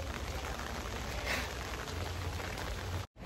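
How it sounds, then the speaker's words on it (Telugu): Heavy rain falls in a dense, steady hiss close by, with a brief cut near the end. "ఫుల్ వర్షం పడుతుంది."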